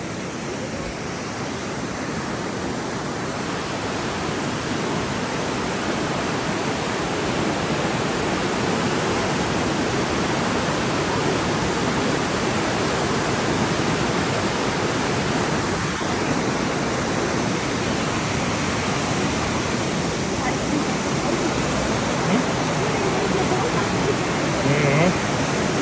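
The flooded Traun river in Traunstein, Bavaria roars in a dense, continuous rush of churning water, loud and close, unbroken for the whole stretch with no voices clearly standing out.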